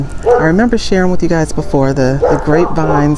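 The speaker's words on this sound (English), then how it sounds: "sorry for the dogs barking" The neighbor's dogs bark somewhere behind a home garden in zone 10b, mostly buried under close, continuous talking.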